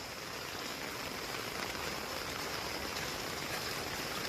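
Steady rain pours outdoors during the monsoon season, a dense and even hiss of water that holds constant with no pauses and no voices.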